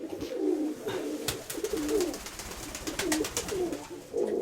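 Young pigeons cooing close by in soft repeated low calls, with a few sharp clicks and faint background noise.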